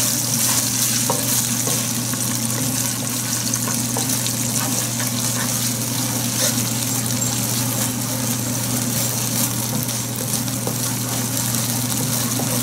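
Ginger and garlic sizzle in a pan over medium heat, a continuous close frying hiss with faint stirring scrapes and a steady low hum beneath, no talking.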